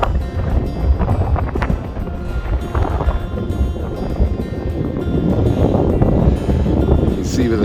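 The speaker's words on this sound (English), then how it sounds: "Sorry, you can hear it's very windy" Strong wind on a Scottish mountain hillwalk on Ben More and Stob Binnein buffets the microphone in a constant low roar, gusting louder toward the end.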